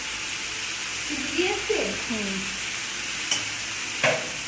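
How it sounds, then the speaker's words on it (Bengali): Freshly added vegetables for a Bengali chhyanchra curry sizzle in a frying pan as they are stirred, a soft steady frying hiss with a few clinks from the utensil while people talk over it. "এটা একটু ভালো করে নাড়তে হবে, যেহেতু সবজিটা এখন দেওয়া হলো।"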